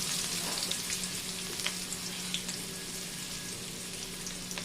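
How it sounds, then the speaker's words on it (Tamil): Sliced onions sauté in hot oil in a pan for a Tamil vegetarian fish-style kuzhambu, giving a constant close sizzle with light crackles and faint stirring taps. "வெங்காயம் போட்டுக்கலாம். வெங்காயம் நல்லா வதங்கணும்."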